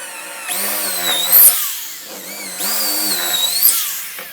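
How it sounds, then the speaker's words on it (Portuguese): Power drill widening a hole in wood with a 3/8 bit while building a homemade wooden bench vise: two close, whining bursts of the motor, each rising and bogging slightly under load, with a short pause between them. "Aí eu coloco a 3/8, assim eu não forço tanta broca. Só vou agora dar uma largada nesse buraco."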